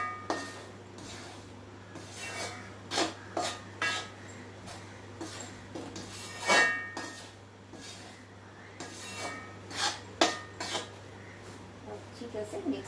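Flour mixed with ghee for gond laddu is stirred in a pan with a spoon, making soft rhythmic scraping and rubbing strokes with occasional light clinks over a steady low hum, while someone talks quietly.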